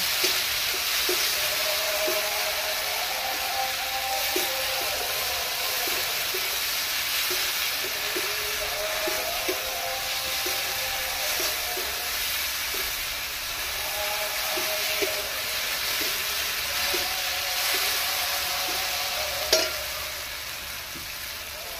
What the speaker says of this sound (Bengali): আদা রসুনের পেস্টটা দিয়ে দিচ্ছি। এটা খানিকক্ষণ আমি কষতে থাকবো।